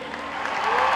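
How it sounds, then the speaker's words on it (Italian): Audience applause for the actors at a youth gathering in Verona, a brief wash of clapping and crowd noise that swells slightly toward the end. "facciamo un bel applauso agli attori"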